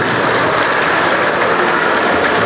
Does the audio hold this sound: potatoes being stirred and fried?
no